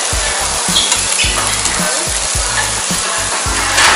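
Scallops with garlic sizzle loudly and steadily on a grill, with rhythmic scraping and stirring strokes repeating throughout.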